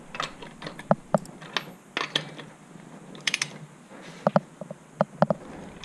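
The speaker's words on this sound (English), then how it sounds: "as I use the torque wrench, I'm still about a quarter turn away from getting to that 100 pounds" Torque wrench clicking and ratcheting while tightening wheel lug nuts on a Chevy Bolt EV, a series of sharp close metallic clicks in short irregular bursts with quiet gaps between.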